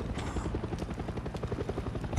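Rapid, rhythmic thumping of helicopter rotor blades in Far Cry 6, a steady low chopping drone at moderate volume with no talking.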